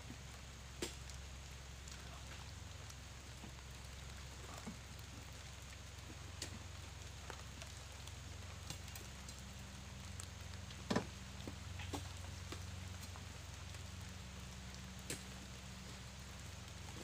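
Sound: rain falling

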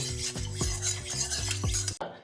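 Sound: mustard oil sizzling as it is swirled in a hot kadai

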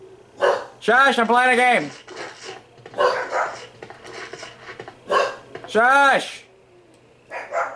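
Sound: dog barking

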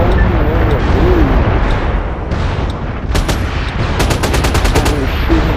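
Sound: gunfire in MAG video game

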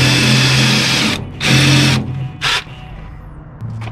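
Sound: drill boring pilot holes

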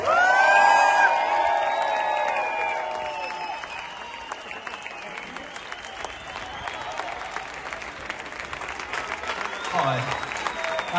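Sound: audience giving long applause

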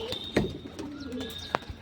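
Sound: pigeon cooing

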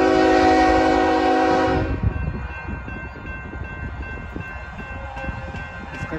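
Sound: CPKC freight train with grain hoppers passing, horn

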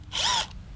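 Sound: power drill driving a Torx screw on Ford Mustang

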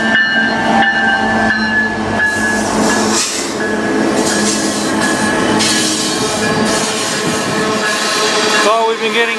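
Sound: CN manifest freight train with locomotives passing

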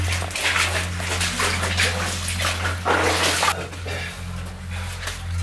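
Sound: splashing water while crawling through the Paris Catacombs

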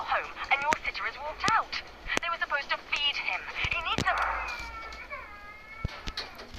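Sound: baby crying in a video game

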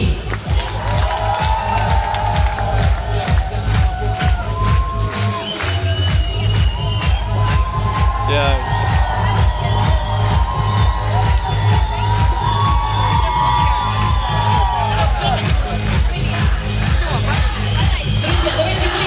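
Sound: crowd applauding and cheering

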